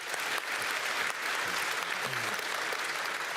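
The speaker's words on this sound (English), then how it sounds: "that needs applause" Applause from a gaming audience, a steady dense crowd clapping throughout, with a faint voice briefly audible underneath.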